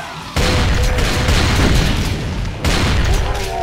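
Explosions in the first-person shooter Brutal Doom, loud booming blasts with rumbling, crackling decay, one heavy burst early and another near the end, mixed with game effects.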